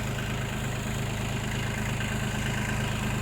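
A small Kubota tractor engine idles steadily close by, giving a continuous low rumble with no talking.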